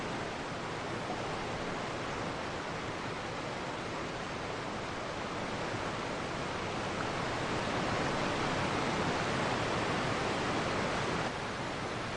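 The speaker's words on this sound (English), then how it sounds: "These waterfalls are way too loud." A loud, steady roar of a waterfall in the Genshin Impact game, a dense rushing wash of water that holds constant and swells slightly toward the end, with no voices over it.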